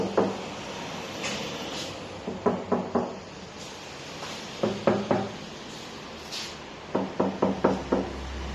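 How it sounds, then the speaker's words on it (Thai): Knuckles rap on the body of an acoustic guitar in a guitar shop, giving close, hollow taps in short clusters of three or four with brief pauses between groups. "เราเคยถามตัวเองไหมว่าเราเคาะทำไม เวลาเรามาร้านกีตาร์เรามาเคาะ"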